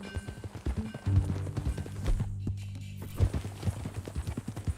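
A horse's hooves clip-clop at a steady walking pace in the Red Dead Redemption II video game, close and fairly loud, with occasional snorts beneath the rhythmic beats.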